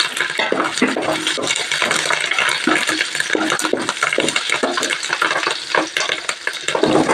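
Hot oil sizzles loudly and continuously in a pan as a tempering of curry leaves, turmeric and crushed small green chillies fries, with occasional stirring scrapes, close and dense throughout.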